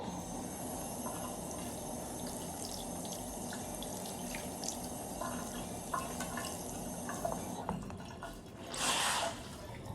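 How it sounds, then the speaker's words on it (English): Water running and splashing at a sink as a face is rinsed, a soft continuous trickle with small drips, then a louder burst of splashing near the end. "I just washed my face. About to rinse it."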